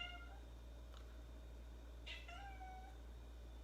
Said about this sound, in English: I have two cats, one gray and one black